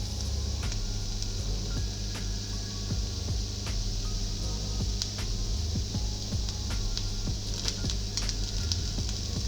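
Mince and onions cooking in a pan, a faint steady sizzle with light scraping and clicking from stirring, low hum underneath, no talk.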